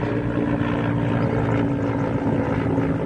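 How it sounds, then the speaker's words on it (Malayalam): Over farmland with tilled fields and grazing cattle, a helicopter passes overhead, its steady droning rotor and engine noise filling the air continuously and fairly loud, with no talking. "മുകളിലേക്കൂടി ഹെലികോപ്റ്റർ വന്നിട്ട്"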